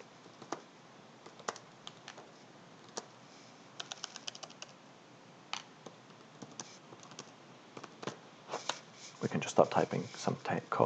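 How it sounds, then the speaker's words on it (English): Typing on a computer keyboard: scattered individual key clicks, some sparse and some in short runs, growing into a faster, louder burst of keystrokes near the end, recorded close and fairly quiet. "what we can then do is just start typing"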